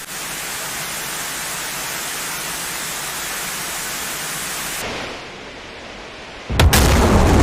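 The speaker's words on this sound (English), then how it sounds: "Patriots being shot by the... Patriots shooting the Scuds." Missile launches and intercepts in a DCS combat flight simulator, Patriot batteries firing on Scud missiles, heard as a steady loud broadband roar that drops away, followed by a sudden sharp loud burst near the end.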